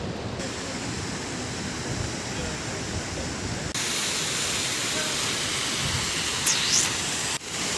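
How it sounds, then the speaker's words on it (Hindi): Rudranath Fall in Himachal Pradesh roars as a steady broadband rush of falling water, continuous and fairly close, with a slight jump in level midway and a brief whistle-like sound near the end. "और ये है रुद्रनाथ फॉल।"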